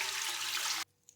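Water poured into a cooking pot before setting a steamer in it for chicken steam roast, a loud, steady rushing splash that stops abruptly, followed by a faint drip.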